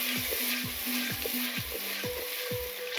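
Dry coriander powder, salt and spice masala sizzle and fry in a pan for restaurant-style tadka dal, with a steady close crackle and rhythmic scraping stir strokes of a spoon against metal repeating every half second.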